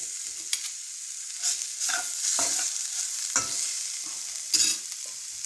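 Drumstick curry with cooked potato pieces is sautéed and stirred in a pan, giving a steady soft sizzle. Sharp scraping stirs and clinks land at irregular intervals over it, close and moderately loud, with no voices.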